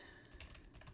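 Brief burst of computer keyboard typing while entering network configuration commands, a rapid cluster of soft key clicks, close and alone.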